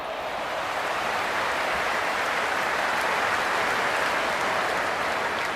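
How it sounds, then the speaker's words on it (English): Enthusiastic crowd cheering in the stands at an IPL cricket match between PBKS and LSG, a dense, steady roar of applause and voices that fills the ground from start to finish. "There's a buzz, a real buzz coming from the stands."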